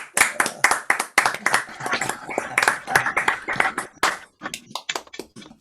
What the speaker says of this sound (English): want you all to clap now